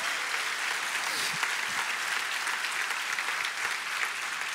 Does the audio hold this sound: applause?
yes